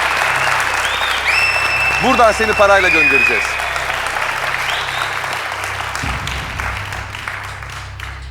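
Studio audience on a Turkish quiz game show applauds steadily through the clip, a broad wash of clapping beneath a host's voice and a short burst of game-show music effects.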